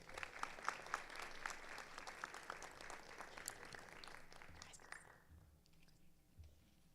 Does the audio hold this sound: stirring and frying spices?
no